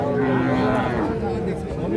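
A calf moos steadily and loudly at a busy cattle market where young bull calves are being sold, one drawn-out bellow running through most of the moment amid crowd murmur.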